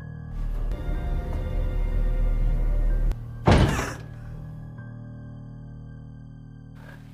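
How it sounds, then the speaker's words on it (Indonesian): A door in an abandoned house thuds shut with a single heavy knock, after a low rumbling drone and scraping, leaving a faint hum and a small click at the end; eerie and sparse. "tiba-tiba terdengar suara pintu"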